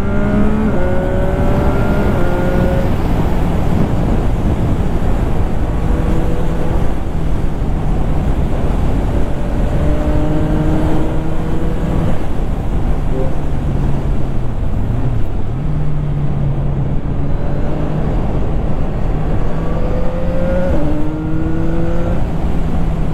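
A 2025 CFMOTO 675NK three-cylinder motorcycle is ridden, its engine climbing and shifting through gears in repeated rising sweeps under constant wind rush.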